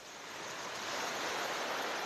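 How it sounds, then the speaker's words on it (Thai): Ocean waves washing onto the beach at Bang Saen on a calm, windless morning, a soft continuous hiss of surf gradually swelling, fairly faint and with no voices. "เสียงคลื่นซัดฝาด"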